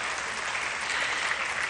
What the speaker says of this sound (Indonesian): Boleh loh tepuk tangan, boleh.